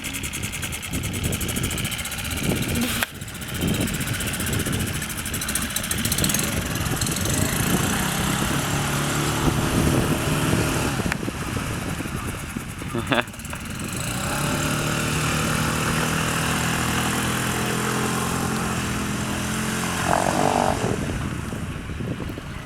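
A Suzuki DF5 outboard motor on a Neptun 260 boat runs continuously with a steady buzzing drone that rises and falls slightly in pitch, with a few brief knocks and clicks over the engine noise.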